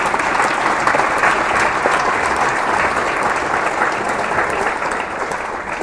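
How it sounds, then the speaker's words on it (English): Dense, continuous applause from an audience at a school movie premiere night honoring students, loud and even throughout the whole stretch with no voices over it. "Let's have another round of applause for these talented students."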